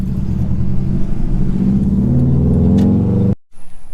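A 2006 Subaru WRX driven around the block after a power steering line replacement: a close, steady engine drone with a rising rev, cut off abruptly near the end.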